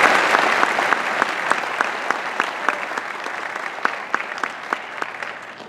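Steady audience applause at a National Honor Society ceremony for the society's officers, a dense indoor round of clapping that holds evenly for several seconds and slowly tapers.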